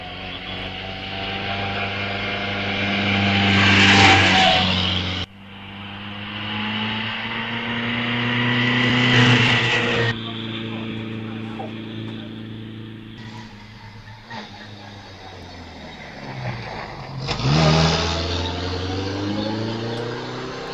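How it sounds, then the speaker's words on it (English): An Austin 7 EA Sports replica with an engine dating from 1930 pulls away from the start of the Wiscombe Park hillclimb, its engine revving hard and rising in pitch through several gear changes, loud and close, then fading up the hill. "number 1 is away. That's Robert Rhodes with the Austin 7 EA Sports replica"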